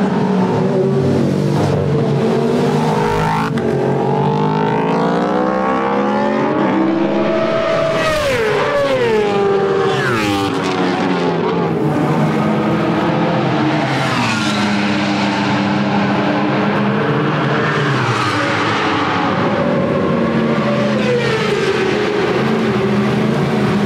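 Yamaha racing motorcycle of the GMT94 team lapping the Portimão circuit during testing; a loud, continuous engine note rises and falls through revs and gear changes with no talk.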